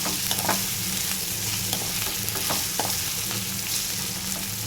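Chicken liver curry frying in a pan hisses steadily up close while a spoon stirs it, with small scraping knocks over the continuous sizzle; no one speaks.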